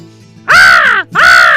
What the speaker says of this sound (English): That cawing of a crow.